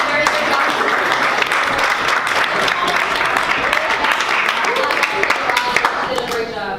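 A meeting audience applauds Rosalind, with a dense, steady round of clapping from many people that holds evenly for several seconds, mixed with crowd murmur and voices.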